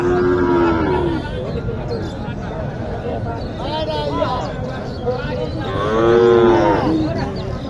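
Sahiwal cattle moo repeatedly at a busy cattle market in Naogaon, with several long lowing calls rising over steady crowd noise and nearby talk.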